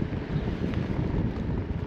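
Headwind roars past a touring bicycle on a road ride, a steady buffeting rush of wind noise close to the microphone, unbroken for the whole short stretch.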